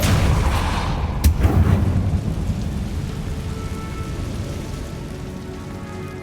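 Depulso force spell cast in Hogwarts Legacy: a sharp blast just past one second, swelling into a deep, rumbling roar that slowly fades over the rest of the clip, with no talking.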